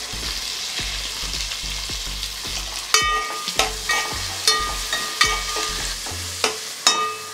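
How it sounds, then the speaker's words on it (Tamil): Onion and tomato frying in a pan for spicy chutney, a close steady sizzle with repeated clinks and scrapes of a stirring spoon against the metal, no voices. "நல்ல வெங்காயம் வெங்காயம் தக்காளி வதங்கிடுச்சு"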